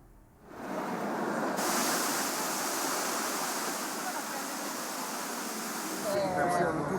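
Water pours and splashes steadily in Rome's Trevi Fountain, a dense, even rushing wash that starts abruptly and holds at a constant level, with a brief faint voice near the end.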